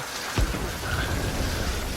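Steady rain falls outdoors at a wartime military camp, a continuous hiss of drops with a brief low thud early on.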